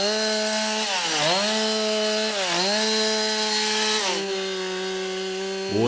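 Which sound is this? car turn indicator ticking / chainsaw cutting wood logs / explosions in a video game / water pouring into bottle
chainsaw cutting wood logs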